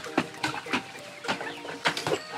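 Wet, frightened chickens on a farm during a typhoon cluck close by in short, repeated bursts, several birds calling over one another in an uneven rhythm.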